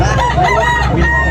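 A rooster crows loudly and close at a busy chicken market in Tabunok, its call running across the whole moment over a dense crowd din.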